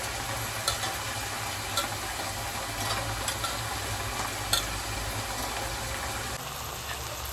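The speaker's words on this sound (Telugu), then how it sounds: "ఇప్పుడు కడిగి పెట్టుకున్న రైస్ అయితే వేసుకుందాం" Soaked plain non-basmati rice is added to fried onions in a pan and stirred, giving a steady low sizzle with occasional soft scraping clicks from the spoon.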